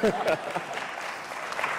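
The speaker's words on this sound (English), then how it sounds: "Kids, feel free, applaud." Applause from kids at an education and skills panel on Ireland's tech industry, a short burst of clapping that fades under a speaker's voice.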